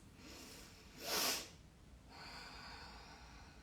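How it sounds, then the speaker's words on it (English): Slow, deep breathing during a relaxation exercise, with one strong close exhale or sniff followed by a softer, longer breath over a faint steady background hiss. "I'm gonna close my eyes for a minute and just take some breaths."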